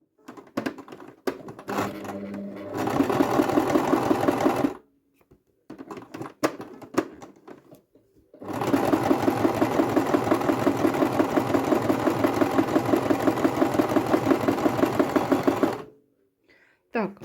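A domestic sewing machine with a plastic presser foot stitching faux leather runs in long steady bursts of rapid mechanical clatter, stopping and restarting with pauses between, close and loud, with someone talking in the quieter gaps.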